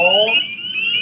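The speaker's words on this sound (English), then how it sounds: "So that peeping sound is the peep of the spring peeper." A spring peeper, an inch-and-a-quarter male chorus frog, gives a high, piercing sustained peep that runs through the whole moment, loud and close, with a brief lower voice sound at the start.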